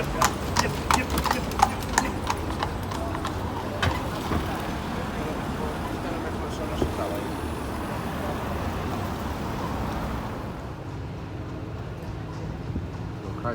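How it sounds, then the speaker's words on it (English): Horses pulling carriages clip-clop by a cathedral, hooves ringing sharply at first and then blending into steady street and traffic noise, while a person talks over it. "There's all these horses coming up down"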